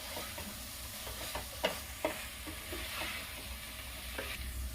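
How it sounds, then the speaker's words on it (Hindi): Coarsely ground soybean frying and being stirred in oily masala for a soy-peas pulao, a steady soft sizzle with light spatula scrapes and taps scattered through, no talking. "अब इसमें मैं जो सोयाबीन को दरदरा करके रखी थी, इसे 1-2 मिनट में भून लूंगी।"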